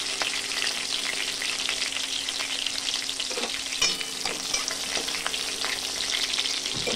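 Vegetables for a spinach and cabbage curry with green chilies fry in a pan, giving a constant dense crackle up close. Small spatula knocks and stirring scrapes break through now and then, with no talking.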